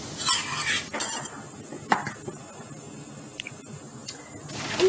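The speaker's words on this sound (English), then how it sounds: "I'm going to go ahead and mix that in there" Sour cream being stirred into a hash brown casserole mixture in a bowl, soft scraping and a few clinks of a utensil against the dish, close and fairly quiet.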